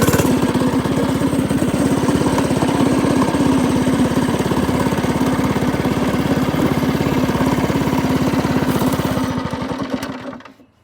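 A lowrider go-kart engine holds a loud, steady, buzzy drone at full throttle through a top speed run, close and continuous before cutting off abruptly near the end.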